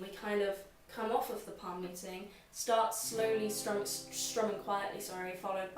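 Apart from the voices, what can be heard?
No distinct noise like a dog, phone or traffic.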